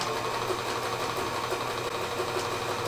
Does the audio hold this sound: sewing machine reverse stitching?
yes